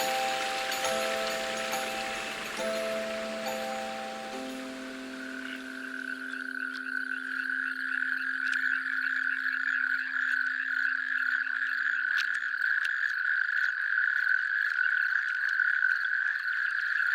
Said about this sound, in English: The Nat Jack Toads come out from their hiding places, where they have spent the winter to one of the pools which have just formed in order to reproduce.